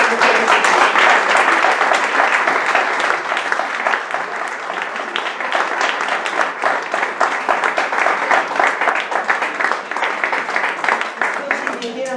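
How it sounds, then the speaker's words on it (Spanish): An audience at a poetry evening applauds poet Concha Cruz with steady, dense clapping that holds at an even loudness for about twelve seconds, with voices mixed in beneath it. "Un fuerte aplauso para Concha Cruz."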